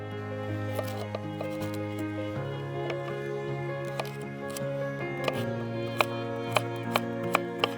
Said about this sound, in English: we're just going to start now with cutting up our carrots and our onion